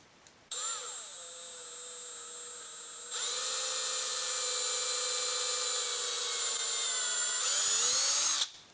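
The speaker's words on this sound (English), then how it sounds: "I'm going to test this 1/8 inch drill bit here on a spot where I believe I'm going to use it in the future." A power drill with a 1/8 inch bit bores into HDPE plastic, a loud, sustained whine lasting about eight seconds, stepping up in intensity partway through and shifting pitch just before it stops.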